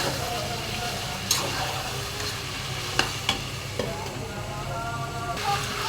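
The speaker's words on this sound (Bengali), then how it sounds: "আমি ভালো করে মাংসটাকে কষিয়ে নিচ্ছি" Beef sizzles as it is stirred and sautéed until thick in a pan, a constant close frying hiss broken by occasional sharp scrapes and clinks of the spoon against the pan.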